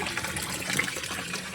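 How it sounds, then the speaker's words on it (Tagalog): A hose pours water into the tub of a Condura washing machine, giving a continuous close gushing and splashing fill with no talking. "Lagyan natin ng hose para malagyan natin ng tubig yung pinaka-tab."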